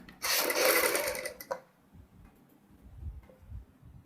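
A sewing machine stitches the neckline of a kurti in a loud, fast mechanical burst lasting about a second, then stops. Faint handling noises follow in the quiet.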